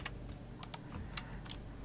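Computer keyboard keys pressed for a Ctrl+L shortcut while 3D modeling, a handful of soft, quick clicks spaced irregularly over quiet room tone.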